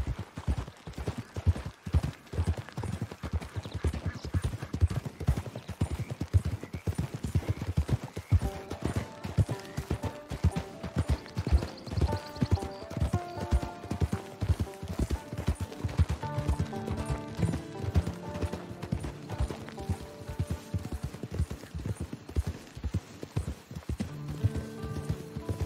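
Horse hooves clip-clop in a steady trotting rhythm in the video game Red Dead Online, clear and continuous throughout with music rising in the background.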